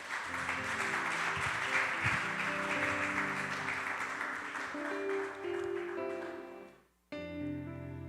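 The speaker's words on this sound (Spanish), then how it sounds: "Dale un fuerte aplauso al Señor," Steady congregational applause fills a church, loud and sustained for several seconds with music tones underneath, fading out and breaking off before a short burst of instrumental music resumes.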